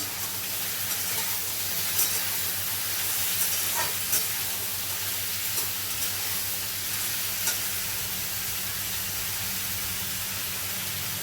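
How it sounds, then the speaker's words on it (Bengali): Potatoes fry in oil in a pan for aloo posto, a steady soft sizzle with occasional stirring scrapes and small pops, moderately quiet and continuous, with no talk. "আলুটা ভাজা হচ্ছে।"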